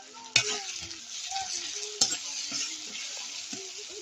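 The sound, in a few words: onions frying in a pan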